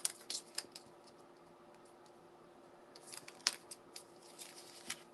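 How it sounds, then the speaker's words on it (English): Sticky scissors snip repeatedly at a craft panel during a quiet tabletop session, giving a run of short, faint crisp cuts clustered at the start and again near the end. "And I got my sticky scissors."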